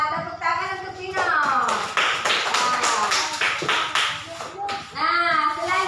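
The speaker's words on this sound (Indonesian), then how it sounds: "tepuk tangan untuk Tino." An Indonesian primary classroom group claps hands together in quick, rhythmic bursts, with children's voices chanting and calling out loudly over and between the claps.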